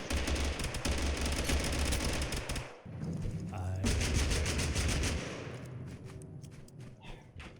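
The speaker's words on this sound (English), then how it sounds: "We are getting shot at by multiple people." Rapid automatic gunfire and bursts of shots from several players in the battle royale game Totally Accurate Battlegrounds, loud and nearly continuous, with brief pauses and a dip partway through.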